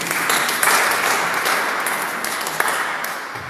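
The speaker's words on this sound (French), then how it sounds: "Applaudissons le Seigneur pour ce couple." A congregation at a Christian prayer gathering in Brussels applauds steadily, a dense wash of clapping that holds loud throughout and tapers slightly toward the end.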